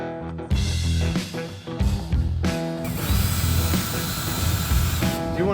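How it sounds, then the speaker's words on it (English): A power drill whirs loudly and close in a motorcycle workshop, starting and stopping in short bursts before running in one long sustained whine. "want to stand here and watch me drill?"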